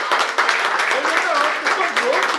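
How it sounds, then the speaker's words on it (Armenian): A large audience applauds loudly and steadily for Robi Ermiasi, dense clapping sustained throughout under a speaker's voice. "Երևին են շատ բարձր ծափարում Ռոբի Էրմիասին"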